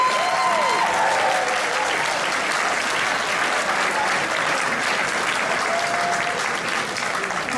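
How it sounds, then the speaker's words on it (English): A conference audience at Earth Keeper 2018 gives a sustained round of applause, dense clapping that stays loud and even for the whole stretch with a few faint voices mixed in. "a round of applause for Graham Hancock and Randall Carlson."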